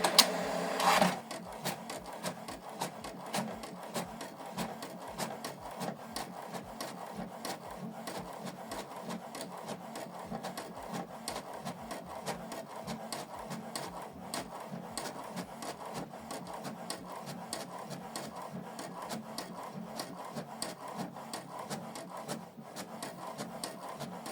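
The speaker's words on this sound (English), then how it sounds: "So this document is printing." An HP Deskjet 4310 inkjet printer prints a document, its mechanism ticking and rubbing in a steady rapid rhythm for over twenty seconds at a soft, close level.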